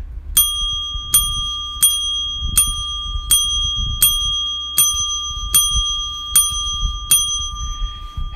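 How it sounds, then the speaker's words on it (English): A bright bicycle-style bell rings ten times in a steady, even rhythm, loud and clear, each ding ringing out briefly over a low background rumble, used as a livestream alert. "Had to get her a 10 bell ringer for that one."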